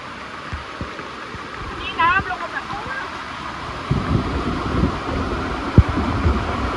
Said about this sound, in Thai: นี่ไงน้ำตกของเรา